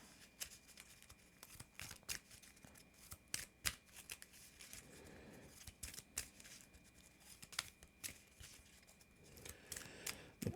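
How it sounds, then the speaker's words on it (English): Cards from the challenge deck of the Earthborne Rangers board game are shuffled by hand, giving quiet, close riffles and snaps in irregular bursts against a near-silent room. "And now we gotta shuffle the challenge deck."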